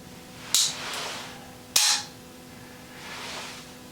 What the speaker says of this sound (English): So when you squeeze the trigger, the hammer falls.